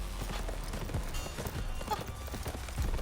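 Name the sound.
horse galloping hooves charging, from the video game The Final Route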